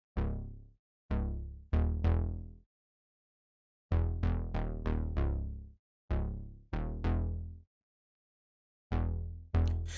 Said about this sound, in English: that analog synth bass style of bounce with like kind of like a house rhythm or something like that.